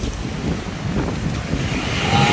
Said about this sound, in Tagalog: malakas naman yung alon at saka hangin.